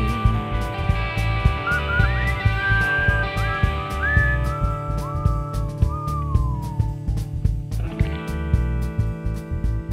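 Men whistling a wandering melody over steady, loud background music, with the tune rising and falling for several seconds before fading.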